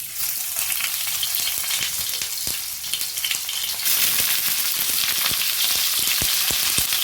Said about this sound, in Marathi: तर हे फणसाचे तुकडे आपण फ्राय करणार आहोत।